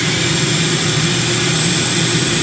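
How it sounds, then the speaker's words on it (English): A shop vac roars loudly and continuously while sucking the leftover water out of a toilet bowl, an even, dense rushing whine with no pauses. "all you have to do is suck that out with a shop vac or a wet dry vac"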